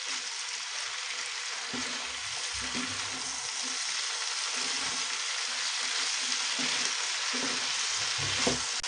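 Mixed vegetable sabzi fries on a gas stove with a continuous dense sizzle and hiss, while faint low stirring scrapes surface now and then under the even frying noise.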